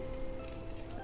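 Spices and curry leaves tempering in hot oil in a pan for vamaku (ajwain leaf) pachadi, giving a steady, close, continuous sizzle and crackle with no talking.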